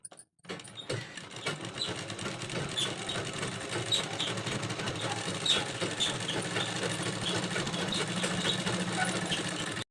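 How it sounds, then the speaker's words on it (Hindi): A sewing machine runs steadily, stitching kurti fabric along marked fitting lines, with a continuous mechanical whir and faint rhythmic clatter that starts after a short silence and holds at a constant level. "चलिए मशीन पे सिलाई लगाते हैं।"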